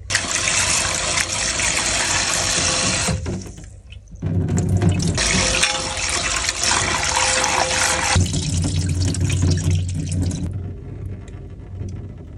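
Fresh anchovies (dilis) being rinsed under running tap water, a loud continuous splashing rush broken by a short pause, then resuming and tapering off near the end.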